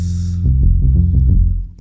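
A low organ synth patch on a DRC synthesizer, pitched down seven semitones with reverb, plays a short run of deep pulsing notes that swell loudly and then fade as it ends.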